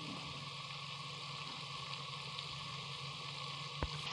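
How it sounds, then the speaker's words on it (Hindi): Masala spices fry in a pan for Punjabi kadhi pakora, a faint, even sizzle and bubbling hiss that goes on without pause. "ये हम डाल के मसाले को फ्राई कर लेंगे"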